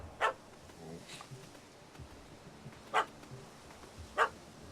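A puppy in the video game The Witcher 3 gives a few sharp, separate barks spaced over several seconds, fairly close against a quiet, faint background.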